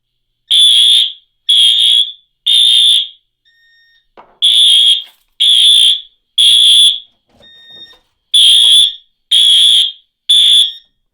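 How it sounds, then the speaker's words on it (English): A loud, piercing fire alarm set off by a smoke detector test sounds in repeating groups of three shrill beeps separated by short pauses, close by and with no voices. "Alarm in zone 3"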